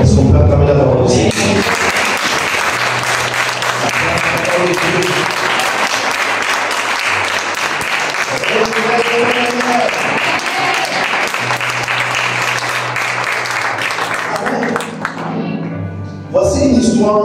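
A church congregation bursts into sustained loud applause and cheering, a dense roar of clapping and shouting that fills the room before fading out near the end.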